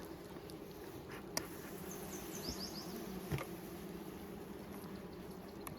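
Honey bees hum faintly around a queen nuc in a beeyard, a low steady drone with a few brief sharper buzzes and knocks, fairly quiet and without speech.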